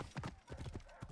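Horse hooves clip-clop in Assassin's Creed Origins, a quick run of close, uneven hoofbeats over about a second, with a faint background sound that may be voice.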